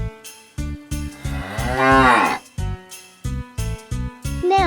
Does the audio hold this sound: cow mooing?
yes